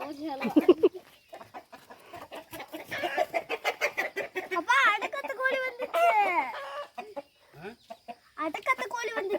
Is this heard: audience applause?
no